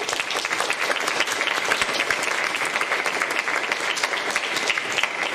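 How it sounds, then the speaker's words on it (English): A loud, close burst of audience applause for two debaters at a public debate on the identity of Jesus, many hands clapping in a dense, even roar that carries on without letup. "I want to give one more round of applause for both of our debaters."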